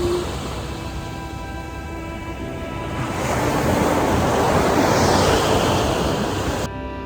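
Ocean surf rolls in as a loud, continuous rushing roar that builds to a fuller crest partway through, close by and mixed with light wind noise, with no talking.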